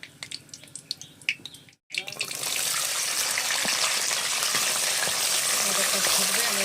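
Shelled green peas hit a hot frying pan after a brief silence, bursting into a loud, steady hiss of sizzling oil that holds to the end, following some light kitchen clatter.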